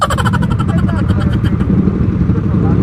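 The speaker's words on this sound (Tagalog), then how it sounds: "Ang iingay ng tambutso no." Loud aftermarket exhaust pipes on Yamaha Aerox scooters roar and rev close by in a steady, rumbling stream, with people talking over the engine noise.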